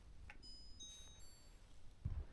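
A Philips AMF870 air purifier gives a faint, high electronic beep tone, about a second long, as it is switched on by remote in a quiet room, with no talking.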